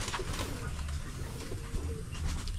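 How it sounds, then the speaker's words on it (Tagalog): Young birds coo softly in a low, murmuring run over a busy background hum, with a few brief chirps mixed in. "Ito po yung ating mga young birds."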